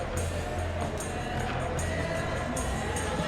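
Stadium crowd in the PES 21 football game before a night match, a dense steady roar of cheering with periodic higher whoops, distant and unbroken.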